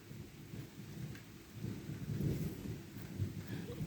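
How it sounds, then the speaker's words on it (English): A thunderstorm brings rain hissing steadily across surfaces, with low rolling rumbles of thunder swelling midway and fading again, all at moderate, distant-sounding levels. "Can you hear the thunder? It's so loud."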